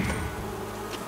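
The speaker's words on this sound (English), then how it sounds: "Yeah, I think I hear bees." Bees buzz in a steady, close drone, alone with no other sound.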